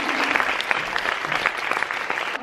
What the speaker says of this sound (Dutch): Groot applaus voor Evelien de Vries.